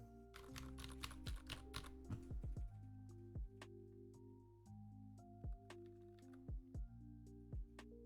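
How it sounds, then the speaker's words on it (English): A mechanical keyboard fitted with Zilent switches, unplugged, typed on in a quick burst of muffled, dampened clicks, followed by slower scattered individual keystrokes heard close and alone. "It's not plugged in, but I'll just pretend that I'm typing into something."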